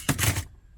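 A quick, crisp cut of snips through a plastic tab while fitting a head unit in a BMW E90, a short sharp crunch up close, then quiet.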